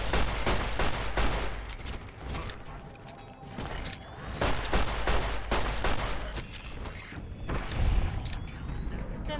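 Rapid, loud video game gunfire fills the space, with dense bursts of shots in quick clusters, brief lulls between volleys, and no talking over it.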